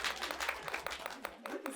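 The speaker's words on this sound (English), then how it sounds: "You can clap." A seated audience at a talk session gives a short burst of scattered clapping, soft and somewhat distant, with the individual claps clearly separate.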